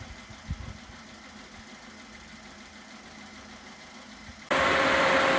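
Renault Trafic 2.2 petrol engine idling steadily at close range, a low even hum with a brief knock early on, then the radiator cooling fan switching on with a sudden loud whooshing rush.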